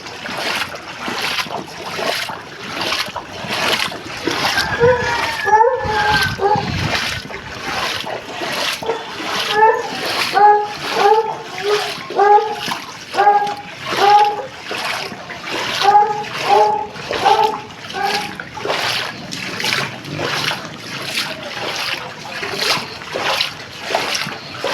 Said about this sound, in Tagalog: Dito lang yan sa Bulacan matatagpuan ang malalang baha.